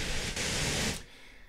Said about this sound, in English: pink noise, right?